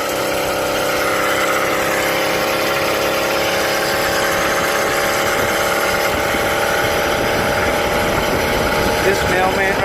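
A 49cc motorized bicycle engine, still being broken in, buzzes loud and steady at close range while the bike cruises around the block.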